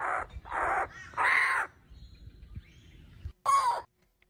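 Kookaburra calling in a few loud, harsh raspy bursts close by, separated by short pauses and a quieter stretch, ending with one final sharp burst.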